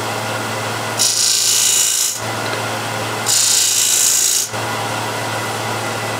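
A hand scraper stroking a wooden bead to round it, two bright rasping strokes of about a second each over a steady low background hum.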